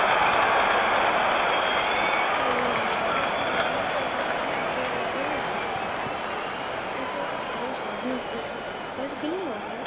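A stadium crowd in the cricket video game Real Cricket 24 cheers after a six in an India versus Australia match. The roar is broad and sustained and slowly fades, with overlapping voices mixed into the noise.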